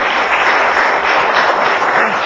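A church congregation applauds, a loud, dense, continuous wash of clapping that fills the whole short stretch with no pauses.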